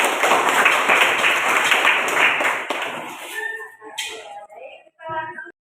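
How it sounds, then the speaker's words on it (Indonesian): Hands clap together in a quick, dense burst of applause for about three seconds, close and fairly loud, then fade out as a voice speaks over the tail end. "Oke, tepuk tangan."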